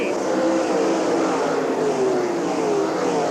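Sprint cars race flat out around the Eldora Speedway dirt oval in a 1997 All Star Circuit of Champions event, a loud, continuous engine roar close by with no break.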